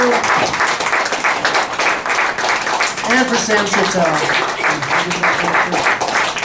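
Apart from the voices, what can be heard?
audience applause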